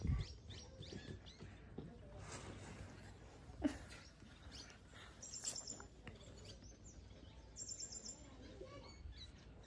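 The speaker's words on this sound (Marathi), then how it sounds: "लय पक्षी बसलेत काय तिथं" Birds chirping outdoors, faint and scattered against a low background, with a few brief calls and a couple of short, sharp tweets standing out.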